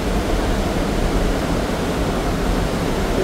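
A loud Swiss waterfall roars as a dense, unbroken rush of falling water heard up close, steady throughout, with no voices.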